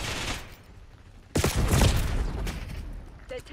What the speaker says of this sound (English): And I get shot in the back.